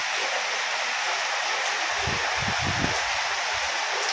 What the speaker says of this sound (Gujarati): જો ફૂલ વરસાદ ચાલુ થઈ ગયો છે